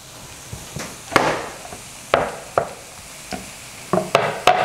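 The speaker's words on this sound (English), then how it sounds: "And I can scramble also a bit more inside the pan." Spatula scraping and tapping as tofu is scrambled in a frying pan, irregular knocks and stirs over a faint sizzle, close and moderately loud.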